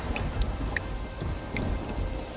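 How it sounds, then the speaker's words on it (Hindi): Steady rain pours down with a low rumble of thunder underneath and a few distinct drips landing nearby. "ये बारिश का सिलसिला यूं ही कुछ दिन तक जारी रहता है।"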